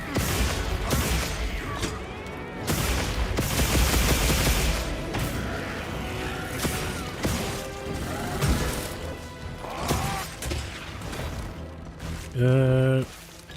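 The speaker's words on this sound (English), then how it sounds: "firework display" Firework display from the video game Monster Hunter Wilds: a dense run of loud booms, cracks and rattling bursts over busy game sound, with a sharp tonal flourish near the end.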